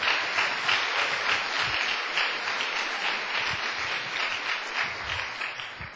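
Church congregation breaking into sustained applause for the Lord during a sermon, steady dense clapping filling the room at close range with no talk over it.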